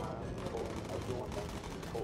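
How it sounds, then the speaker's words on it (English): In the Bomber Crew video game, gunfire hits the bomber as a dense, continuous crackle of rapid shots over a low engine drone, fairly quiet and steady throughout. "So we're getting shot up pretty good."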